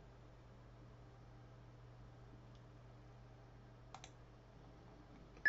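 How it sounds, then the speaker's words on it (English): A computer mouse clicks to send a bitcoin transaction in a quiet room with a low steady hum; a few faint, brief clicks stand out near the end. "Click on send."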